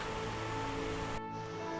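Steady broadband rush of Trout Creek flowing, a continuous water noise that drops off sharply partway through, leaving a quieter hiss.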